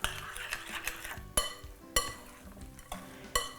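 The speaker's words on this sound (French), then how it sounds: "Mélange le tout." A spoon stirring potato latke batter with egg in a bowl, giving soft wet scraping strokes broken by several sharp clinks against the bowl, close and fairly quiet.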